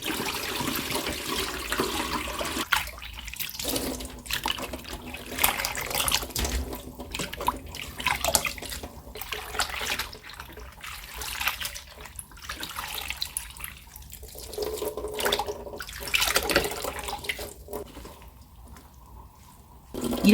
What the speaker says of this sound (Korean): 이제 재빨리 찬물에 헹구어 씻어줍니다